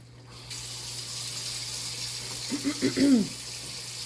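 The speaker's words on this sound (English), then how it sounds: "just a tad bit more water to this." Water runs into a hot pan of seared pork chops and browned bits, a steady hiss with a brief bubbling sizzle near the end, with a faint voice at one point.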